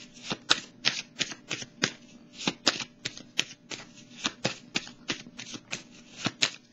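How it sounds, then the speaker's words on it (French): Tarot and oracle cards shuffled by hand, a steady series of crisp riffling flicks and soft slaps repeating roughly every half second, close and clear above a low room hum. "Je vais piger une petite carte ici."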